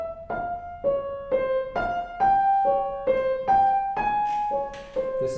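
A keyboard plays bar 9 of the Gigue from Bach's Partita No. 1, BWV 825, a steady run of distinct plucked or struck notes in an even rhythm, clear and close with no voices.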